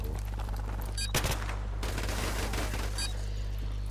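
Gunfire bursts from a Modern Warfare Remastered prop hunt match, a few sharp volleys standing out against a steady low game hum, with a dense rattling stretch in the middle.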